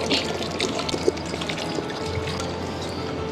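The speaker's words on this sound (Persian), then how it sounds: "یه مقدار هم آب بعد اضافه کنیم." Water is poured into a pot of fesenjan stew made with pomegranate juice. The liquid splashes and trickles close and fairly loud for a few seconds, with no talking.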